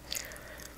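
Close, soft chewing and biting of KFC fried chicken drumsticks, wings and nuggets, a brief crunch early on followed by steady moist mastication with no talking.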